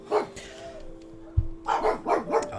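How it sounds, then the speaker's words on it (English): Indoor dogs bark in a quick run of several close, loud barks after a short yip and a thump, with a faint tone humming beneath. "No idea what they're barking at."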